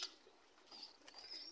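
Pigeon chicks calling for food at feeding time, giving faint, thin, high squeaks and cheeps in short bursts against a quiet background, with no talking.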